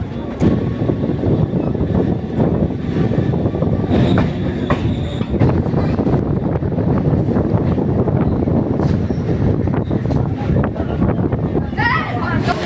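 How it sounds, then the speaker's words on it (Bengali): A Kolkata suburban local train runs from Ballygunge toward Lake Gardens, with a loud, continuous rumble of wheels on rails, clattering, and occasional squeals. Voices are heard over the noise. "তো আমাদের ট্রেন এখন বালিগঞ্জ দিয়ে ছেড়ে দিয়েছে লেক গার্ডেন্সের উদ্দেশ্যে"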